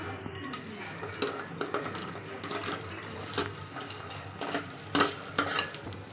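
Roasted onion and grated coconut are stirred in a pan for Kerala kalathappam, with a soft sizzle under intermittent scraping and clinking of the spoon. The bursts grow louder toward the end.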